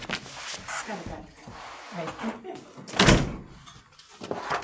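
Door opening in a meeting room as a latecomer comes in, a short thud and rattle heard among nearby voices and shuffling.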